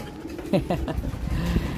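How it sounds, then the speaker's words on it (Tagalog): A racing pigeon coos nearby, a few soft throaty calls in quick succession over low background noise. "may bumalik na naman tayong ibon oh"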